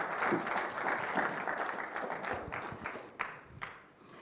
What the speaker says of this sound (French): Je vous demande de l'applaudir, il est avec nous dans la salle